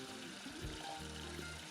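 Well water runs from a kitchen tap into a coffee percolator, a faint, soft trickle and gush of filling liquid with a low hum underneath.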